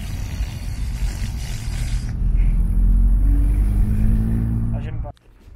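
An older Peugeot 106 with its engine running gives a deep, tractor-like rumble that grows louder partway through and then cuts off abruptly just before the end.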